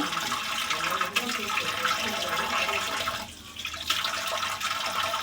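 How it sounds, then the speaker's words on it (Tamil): Raw fish being rinsed by hand in water: continuous sloshing and swishing, fairly loud and close, with a brief lull partway through. "தண்ணியில் போட்டு கழுவிடுங்க"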